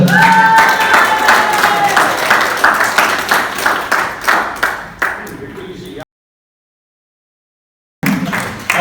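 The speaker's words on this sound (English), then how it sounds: "let's give him another round of applause" Applause and clapping from an open-mic audience welcoming a performer, dense and steady for about six seconds, then a cut to silence before the clapping resumes briefly.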